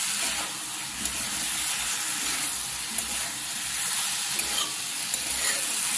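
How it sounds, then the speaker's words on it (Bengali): Fried potatoes and soy chunks sizzle and get stirred in hot spiced oil in a home kitchen, a steady close frying hiss broken by scraping stir strokes, with no talk. "এবার আমরা আলু সয়াবিন যেটা ভেজে রেখেছিলাম সেটা আমি দিয়ে দেবো, তারপরে ভালো করে কষাতে হবে।"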